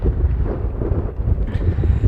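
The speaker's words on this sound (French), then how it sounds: "en espérant que le vent se calme" Desert wind in Morocco buffets a microphone, producing a loud, low, irregular rumbling roar with gusty pulses throughout the short stretch.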